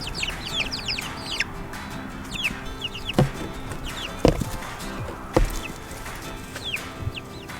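Chickens clucking and squawking excitedly outside their coop, several birds calling in overlapping bursts near the microphone, with a few sharp knocks or thuds cutting through and no talk.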